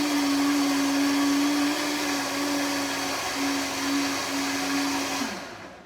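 A blender whirs steadily as it purees kale and spinach with a little water into a thick green mix, a loud continuous motor drone that holds for about five seconds before winding down and stopping.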